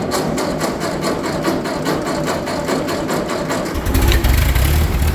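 The engine of a 1940s Ford tractor idles with a rapid, even, chugging pulse, close and loud. Near the end it swells into a deeper, heavier rumble.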